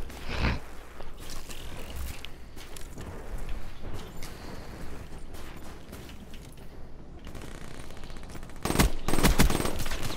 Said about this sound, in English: I'm being shoot again.